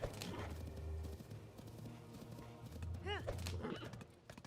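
Horse in Tears of the Kingdom: steady clip-clop of hooves under a game music bed, with a short rising-falling whinny near the end, moderately loud over soft background.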